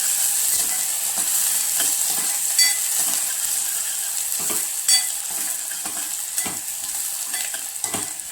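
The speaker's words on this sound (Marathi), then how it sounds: "कांदा व्यवस्थित भाजून घ्यायचा." Onion fries in a pan for a thin, village-style dal-based drumstick curry, giving a steady, soft sizzle with intermittent clicks and scrapes of stirring and no voices.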